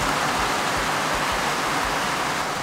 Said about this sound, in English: The rain is here and we are excited.